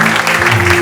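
Church congregation clapping and cheering in praise during a worship service, a dense, loud burst of applause with steady hum underneath.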